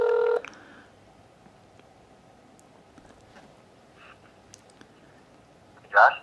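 Phone keypad tones beep as a number is dialed on a girlfriend's phone: a short burst of tones at the start, quiet room noise in between, then another brief beep near the end.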